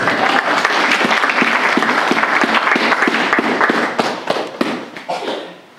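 A church congregation claps in a steady rhythmic beat during a service, loud and close, with the clapping thinning and fading toward the end.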